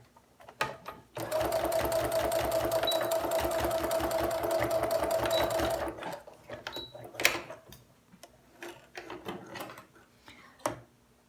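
A sewing machine stitches the pocket of a fitted fabric face mask in one continuous, close, steady whirring run of rapid stitches lasting several seconds, followed by scattered handling clicks and rustles.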